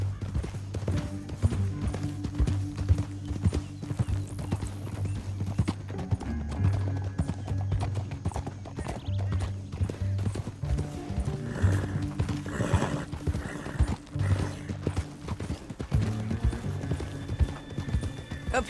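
Horses in the Red Dead Redemption 2 western video game, steady clip-clop of hooves on hard ground with an occasional whinny, set against a low droning music score and a few spoken lines.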